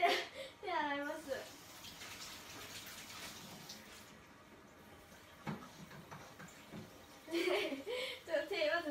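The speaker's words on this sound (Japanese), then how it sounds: "ちょっと手洗います。" A tap runs while hands are washed in a kitchen, a steady gentle splash of water rising and falling between bursts of nearby talk.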